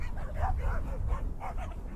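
A dog in the survival video game Frigid yips and barks in a short run of soft, repeated calls against a low rumbling background.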